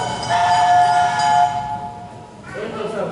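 Train sound effect in a school stage production of Meredith Willson's The Music Man, a sustained whistle-like horn tone over rumbling rail noise, fading out before a voice begins.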